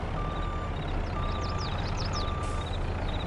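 Reversing beeps from a vehicle in Farming Simulator 22, steady evenly spaced tones over a low engine rumble, with a brief chirping sound partway through and no talk.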